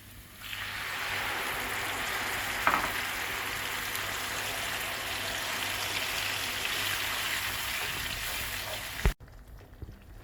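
Grated tomatoes simmering in a pan into a sauce for fellah köftesi, a steady, dense bubbling sizzle with a faint clink partway through, alone and close, stopping abruptly near the end.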